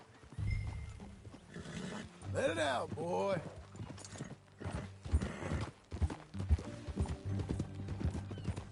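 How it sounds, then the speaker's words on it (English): A horse in a Western video game whinnies and snorts as its hooves clip-clop steadily, close and fairly loud, with a voice speaking over it. "That a new horse?"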